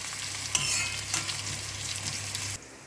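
Dried red chillies with onion and curry leaves are sautéed in a pan, a quiet steady sizzle with light stirring scrapes and a couple of sharp taps before cutting off abruptly.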